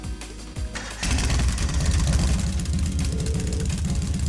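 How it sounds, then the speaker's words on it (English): A motorcycle engine starts up in the Trails of Cold Steel video game: a short cranking rumble, then a loud, steady throaty idle that keeps running, with no voices over it. "Right then, first is starting up the engine."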